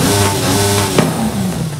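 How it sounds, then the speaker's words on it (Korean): A Mercedes-AMG ONE hypercar engine in Forza Horizon 5 idles with a deep, steady hum, then a brief sharp blip near the middle before settling back into a loud, close rumble. "제가 시동 한번 켜볼게요. 이쪽에 스타트."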